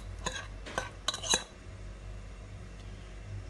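Mango ice cream mixture folded in a metal bowl, giving a few close scraping, clinking strokes of a utensil against the metal in the first second and a half, then a quiet low hum.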